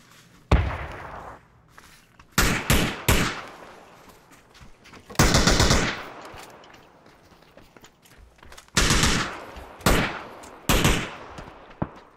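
Bursts of gunfire from a PUBG squad match on the Erangel map, several separate volleys of rapid shots spread across the stretch, loud and sharp with quieter gaps between.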